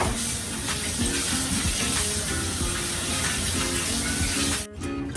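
Tap water runs steadily into a sink as hands are washed in a kitchen before handling ground pork for siomai, a continuous splashing stream that cuts off abruptly near the end.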